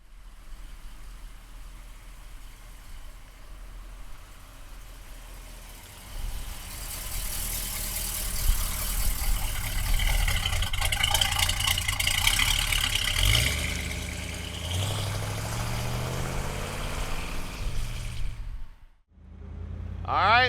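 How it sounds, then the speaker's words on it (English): A black 1970 Chevrolet Chevelle big block convertible runs, its engine idling at first, then rising into a louder, rumbling rev and pull-away before dropping off briefly and picking up again at the end. "let's go for a ride in the big block convertible Chevelle"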